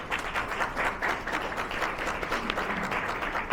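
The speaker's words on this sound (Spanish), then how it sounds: "Un aplauso para" An audience at a conference on religious freedom claps steadily for several seconds, a dense, even wash of many hands clapping at once, fairly loud and close, with no speech over it.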